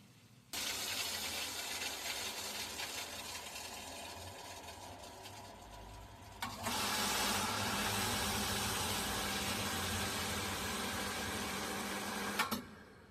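Water pressure pump motor running steadily and loud, a continuous mechanical hum that steps up in intensity partway through and holds, with no talking.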